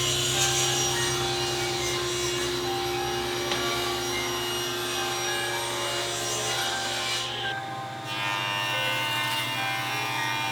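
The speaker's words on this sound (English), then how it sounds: "With that nice straight edge on my rail stock, I'm going to rip these to rough width" A saw rips cherry wood rail stock to rough width, a loud, continuous whining cut with steady blade roar that briefly dips and shifts tone near the end as the board clears, then resumes.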